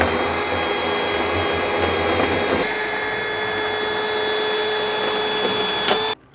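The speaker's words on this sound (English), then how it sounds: "drill your center hole, and then you take the guide, put it in that hole, and then you want to go clockwise into a circle" A drill fitted with a hole-cutting guide cuts a circle in HVAC ductwork, a steady, loud motor whine with grinding scrape that continues without a break and then cuts off abruptly near the end.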